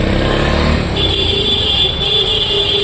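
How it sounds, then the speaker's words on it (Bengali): Dense traffic jam on a city road in Malda, with a continuous wash of car and motorcycle engines and road noise close by and steady throughout. "রাস্তা কিন্তু জ্যাম আছে"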